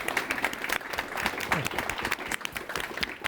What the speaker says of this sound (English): let's give a round of applause to our panel here